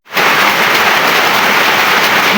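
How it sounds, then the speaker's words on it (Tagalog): Heavy rain pours down in a steady, loud, unbroken hiss that starts abruptly and fills the whole stretch with no voices. "Lakas ng ulan."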